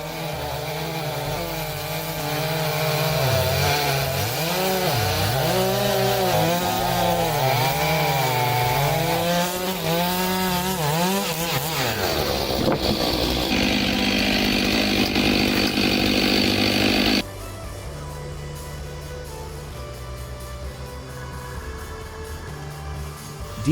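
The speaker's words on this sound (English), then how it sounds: "both chainsaws deliver outstanding speed, precision, and performance while tackling massive timber" A chainsaw roars and bogs as it bites through heavy timber, pitch dipping and climbing under load, then shifts to a steadier grinding cut before dropping to idle.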